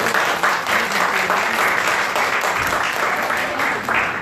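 A crowd at a Vietnamese presentation applauds loudly to welcome a speaker to the stage, a dense, sustained burst of clapping from many hands that holds steady throughout.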